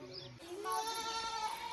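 A goat lets out a single drawn-out, wavering bleat, close and clear, over faint background noise.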